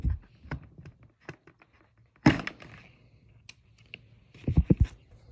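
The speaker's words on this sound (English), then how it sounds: "Let me just pull it out real quick from the controller." An RCA to 3.5 mm converter is pulled from a holiday light show controller: scattered small plastic clicks and taps, one sharper clunk in the middle and a quick cluster of knocks at the end, close and fairly quiet.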